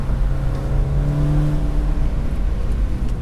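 A 2018 BMW 430i Convertible engine hums steadily and pulls with a rising whir while driving, heard close with no talking.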